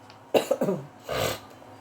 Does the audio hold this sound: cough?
yes